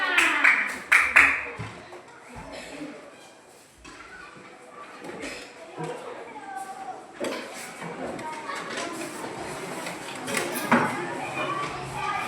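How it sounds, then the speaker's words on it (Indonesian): Elementary schoolchildren in a classroom give a short burst of clapping for student groups, loud at the start, then fading into chatter and a teacher's talk with scattered rustles and knocks. "tepuk tangan untuk kelompok 1 sampai 5"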